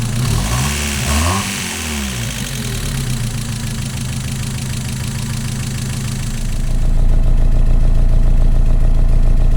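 A Mazda MX-5 engine with a freshly replaced coil pack revs up and settles, running smoothly and close by, then holds a steady louder drone near the end.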